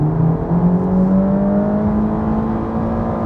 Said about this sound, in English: let me just let you hear the exhaust note